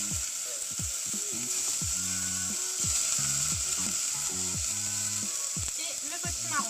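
Onions and pumpkin sizzle loudly in a hot pan, a constant bright frying hiss with intermittent clunks and scraping from stirring underneath.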